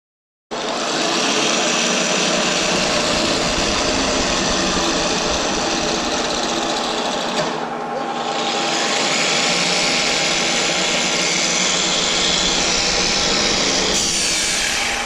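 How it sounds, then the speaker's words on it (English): A center drill cuts into metal on a milling machine, a loud continuous grinding whir that runs for about fifteen seconds, dips briefly midway, then carries on alone. "So here's a center drill."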